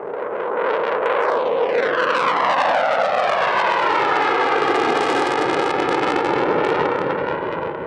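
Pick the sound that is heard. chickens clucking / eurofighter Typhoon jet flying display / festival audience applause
eurofighter Typhoon jet flying display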